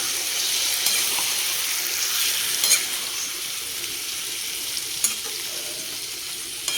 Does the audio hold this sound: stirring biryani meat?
yes